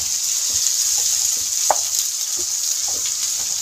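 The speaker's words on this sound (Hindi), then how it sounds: "अब हम इसमें डालेंगे शिमला मिर्च। इसको भी हम 1 से 2 मिनट के लिए फ्राई करेंगे" Sliced capsicum (bell pepper) fries in a pan for a mixed vegetable dish, giving a steady close sizzle with a few soft stirring clicks, and no voices.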